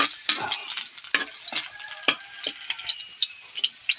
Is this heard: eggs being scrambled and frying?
yes